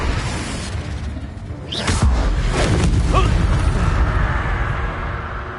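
A Confringo blasting spell in Hogwarts Legacy goes off with a whooshing launch followed by a booming explosion, loud and sustained over a rumbling background.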